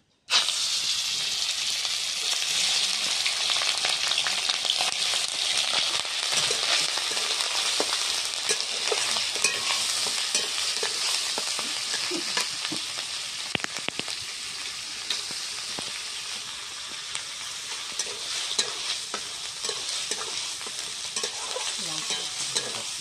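Snake gourd paste frying in hot oil with black cumin seeds, a dense continuous sizzle and hiss with frequent scraping stirs, close and loud, no voices.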